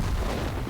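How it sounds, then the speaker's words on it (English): Artillery fire in World of Tanks during a T32 heavy tank battle: a single short, heavy boom with a broad low rumble that fills the moment, with no voices. "the artillery is doing their job, making things difficult as well"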